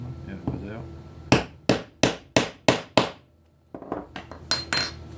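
A hammer strikes while a woodworking tool sheath is being made: six sharp metallic blows in a steady rhythm, then a looser run of lighter taps, with a voice speaking briefly at the start.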